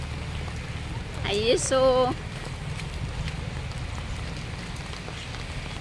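Steady rain pours onto a flooded road during floodwaters, a constant even hiss throughout, while someone speaks briefly near the start.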